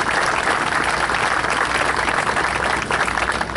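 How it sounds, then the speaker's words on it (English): A crowd at a health center steel-beam ceremony claps in a thick, continuous wave of applause, full and steady from start to finish with no one speaking. "So how about a big round of applause for all those folks that I mentioned?"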